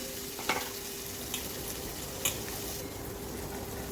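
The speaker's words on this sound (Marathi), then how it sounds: "आता मी या भाज्या सगळ्या परतून घेणार आहे तेलामध्ये." Mixed vegetables sautéing in oil for a restaurant-style veg dum biryani, giving a steady, soft sizzle with a few brief spoon clinks against the pan, close by and with no talking.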